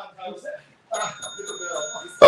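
A round bell rings at a boxing match, a clear sustained ding under an excited commentator's voice, following a stretch of talk.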